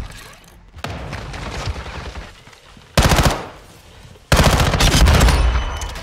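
Automatic weapon fire from hip-fire shooting in Call of Duty MW2 multiplayer: two loud bursts of rapid shots, a short one near the middle and a longer one at the end, over background game noise and distant gunfire.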